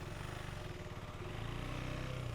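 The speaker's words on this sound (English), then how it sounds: "noticeable lag from when you twist the throttle until the engine starts to rev up" A 2025 KTM 390 Enduro R single-cylinder motorcycle engine runs nearby, a low, fairly quiet rhythmic thrum that rises slightly in pitch toward the end as the revs climb.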